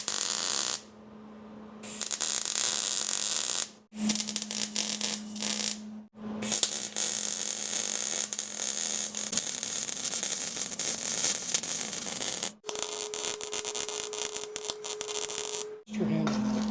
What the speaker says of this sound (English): now I'm going to go ahead and weld it here, weld it